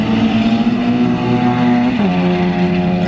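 A street-racing car and a Power Stroke diesel truck roar close by at night, a loud sustained engine drone that dips in pitch partway through, then carries on.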